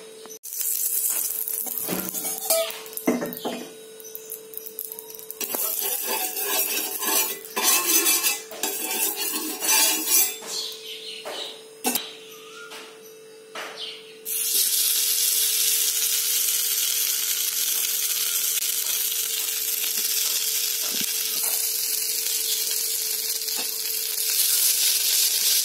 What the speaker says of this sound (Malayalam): ഇനി നമുക്കിതിൽ എണ്ണ ഒഴിച്ച് പത്രോട് ഒന്ന് മുരിച്ചെടുക്കാം